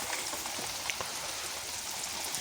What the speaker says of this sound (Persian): بارون فقط